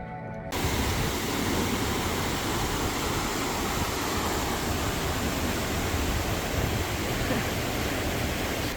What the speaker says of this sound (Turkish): şimdiki durağımız da Lara Aşağı Düden Şelalesi